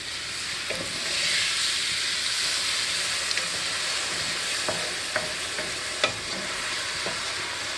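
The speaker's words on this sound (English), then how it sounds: "Going to be completely stirring and cooking until the wine evaporates." Rice for a classic Italian creamy mushroom risotto sizzles and hisses in the pan after wine goes in, a steady bright fry with occasional spoon scrapes and knocks as it is stirred.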